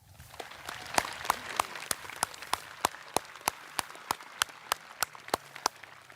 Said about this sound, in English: A round of applause for our guests this evening.